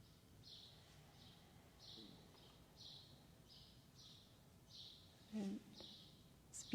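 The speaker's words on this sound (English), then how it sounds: "Beautiful bird song this morning outside the window." Birdsong drifts in from outside a window on a quiet morning, a series of faint, evenly spaced high chirping phrases repeating over a soft room hush.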